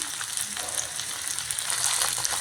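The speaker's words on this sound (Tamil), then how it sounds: "எல்லாத்தையும் நல்லா கலந்து விட்டுருக்குறேன் ஒரு மூடி போட்டு வைக்கிறேன் கொஞ்சம் நேரம் அது நல்லா வதங்கட்டும்" Mixed vegetables (carrot, beans, cauliflower, butter beans, potato) sizzle and fry steadily in a pan for veg kadai, a dense continuous crackle up close with light stirring.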